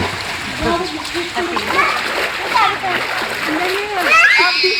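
Water splashes and sloshes continuously as people swim in a pool about six feet deep, with children's voices and chatter layered over the steady churning.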